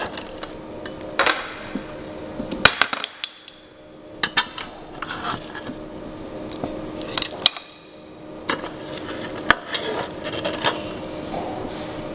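A metal spoon scrapes and knocks around egg and bacon cupcakes in a baking tin, giving irregular sharp clinks and clatters in clusters over several seconds, close and fairly loud, with no talking.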